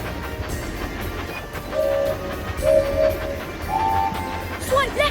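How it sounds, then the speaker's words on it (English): A cartoon train in a mobile video game runs on its tracks with a steady, looping rumble, a few short whistle-like tones over it and a bright chime near the end. "Swipe left or right to keep the train on the tracks."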